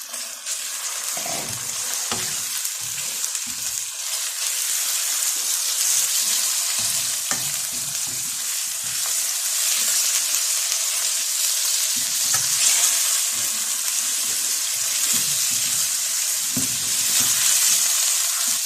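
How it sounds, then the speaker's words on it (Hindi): Chicken and onion fry in a pan for Singaporean rice, giving a loud, continuous sizzle close up, with intermittent scraping and stirring knocks and no talk. "चिकन ऐड कर देंगे और उससे भी हम लोग फ्राई करेंगे जब तक वो पक नहीं जाता"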